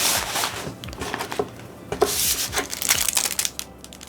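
A plastic bag crinkles and rustles in close, irregular bursts as an anime figure package is unpacked, continuing steadily with no one speaking.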